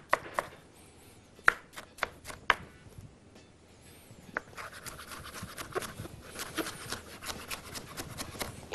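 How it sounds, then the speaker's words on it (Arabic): Knife finely chopping tomatoes on a cutting board, first as scattered sharp taps, then as a quicker, steadier run of close chopping strokes. "افرمها فرم ناعم"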